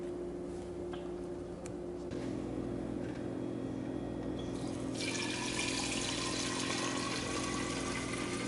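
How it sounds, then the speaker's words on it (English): Tap water runs steadily into a SodaStream Fizzi plastic bottle, a continuous close hiss that grows brighter and fuller partway through as the flow strengthens, with no talking. "we'll fill this bottle with water up to the water line"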